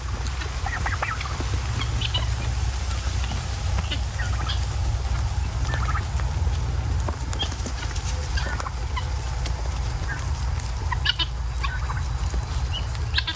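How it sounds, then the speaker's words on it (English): Several farm turkeys gobble in scattered bursts throughout, some close and some farther off, over steady outdoor rumble and wind noise; no speech. "I love to watch the turkeys waddle."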